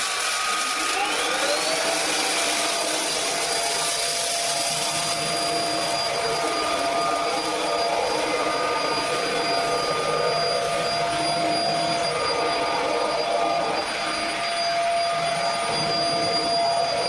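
An Einhell TE-SV 18 Li cordless upright vacuum cleaner runs loud and steady with a high motor whine that spins up at the start. It is cleaning up wheat, cereal flakes and baking soda, and a voice talks over it.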